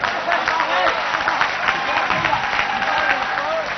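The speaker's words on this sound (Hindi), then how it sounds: "अरे ताली बजाओ भाई।" An audience at a university poetry recitation claps and cheers in a dense, sustained burst of applause that carries on steadily with crowd noise.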